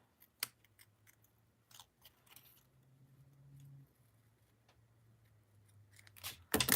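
Scissors snip around a stamped paper image in sparse, crisp cuts with quiet pauses and a faint low hum, ending in a louder run of close snipping.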